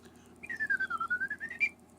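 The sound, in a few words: bird and cat whistle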